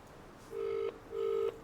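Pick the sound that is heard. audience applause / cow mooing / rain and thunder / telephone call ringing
telephone call ringing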